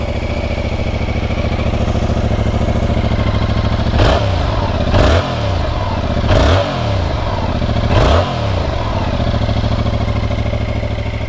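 A Yamaha R7 sport motorcycle idles with a loud, close, steady throb, then its engine is blipped four times in a row, each rev swelling quickly and dropping back to idle, with no voices.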